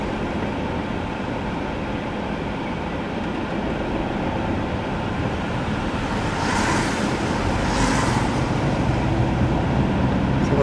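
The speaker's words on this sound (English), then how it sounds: "wind, isn't it?" Strong wind buffets an outdoor microphone, a steady, loud broadband roar running throughout with gusts swelling near the end, no clear speech over it.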